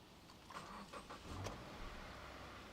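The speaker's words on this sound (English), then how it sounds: "With the hood still open, like to get in and fire up the engine" A 2.5-litre four-cylinder engine in a 2013–2018 Subaru Forester cranks and fires up, the hood open, with a brief rise of starter and engine sound at close range before settling into a low idle.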